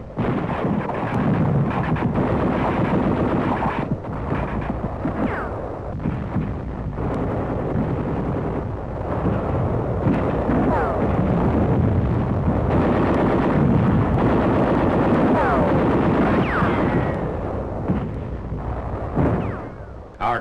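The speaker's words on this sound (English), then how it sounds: "Troops also are being harassed by heavy caliber mortar fire" Heavy caliber mortar fire and gunfire in combat on Peleliu, with loud booming blasts and rolling reports that repeat irregularly over wind-buffeted battlefield rumble and carry on continuously without voices.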